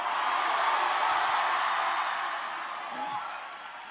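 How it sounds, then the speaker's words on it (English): A church congregation claps and cheers during a sermon, a loud, dense roar of crowd noise and shouting that holds steady before easing off slightly. "Clap your hands and scream hallelujah"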